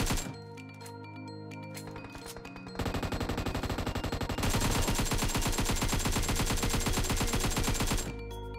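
Automatic gunfire in PUBG Mobile, several sustained bursts of rapid, evenly spaced shots with metallic clinks, growing louder after a quieter opening and stopping abruptly near the end.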